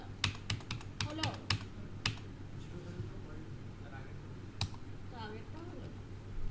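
Computer keyboard keys clatter in quick irregular bursts, then pause and return with a few isolated presses, close and clear, while a voice talks quietly in the background.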